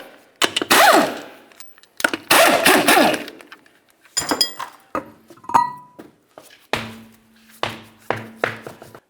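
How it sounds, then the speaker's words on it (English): Lug nuts, 21mm, being loosened from the front wheel of a 2007-12 Nissan Sentra: repeated loud bursts of rattling impact-tool hammering, each a second or so long, separated by brief metallic clinks and pauses. "let's remove our center hubcap and then remove all 4 of our 21mm lug nuts"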